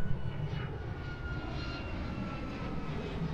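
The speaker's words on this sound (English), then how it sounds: "ignore the odd airplane behind me. Here comes one right now." A fixed-wing airplane flies low overhead near an airport beside a beach, its engine a steady broad rumbling roar, fairly faint and distant, with no talk.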